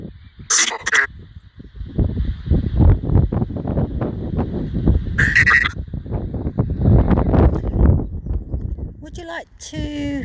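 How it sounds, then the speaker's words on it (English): Wind gusts outdoors at the former RAF Beaulieu airfield in Hampshire, a continuous loud low rumble buffeting the microphone for the whole stretch, with a few brief high bird chirps cutting through near the start, middle and end. "It's a little bit windy here today, so you'll have to excuse the wind."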